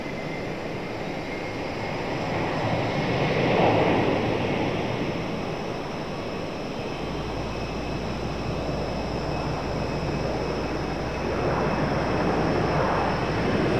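A Delta jet airliner takes off at night at Raleigh Durham International Airport, a broad, distant roar that holds steady and swells slightly as the engines power up, with no talk.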